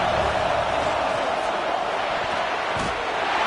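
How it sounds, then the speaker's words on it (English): Home football stadium crowd roars on an opponent's third down in a game against Iowa, a sustained, loud and distant wall of cheering and noise with no break, and a couple of faint thuds within it. "This dog crowd is off the leash, and they are coming after them, bringing noise on third down."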